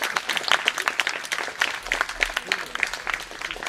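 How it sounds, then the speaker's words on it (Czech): A church audience at a Little Prince performance applauds with brisk, uneven clapping from a modest crowd, individual hand claps distinct, with some voices murmuring underneath. "zatleskejte"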